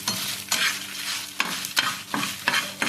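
Spices with mustard seeds frying and sizzling in a pan, with a steady hiss broken by regular scraping stirs of a spoon.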